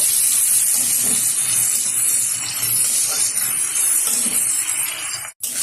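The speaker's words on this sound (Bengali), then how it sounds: "তেলের মধ্যে দিয়ে দিচ্ছি গোটা জিরে, দিয়ে দেবো কুচিয়ে রাখা পেঁয়াজ। ভালোভাবে পেঁয়াজটা ভেজে নেব।" Whole cumin seeds and chopped onion hiss in hot oil, a loud, even sizzle running without a break until a brief knock near the end.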